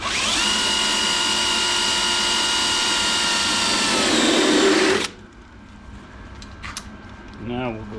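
A power drill fitted with a step (Christmas tree) bit bores a pilot hole for a diesel heater modification, a loud, steady whine lasting about five seconds before cutting off, followed by quieter handling noises.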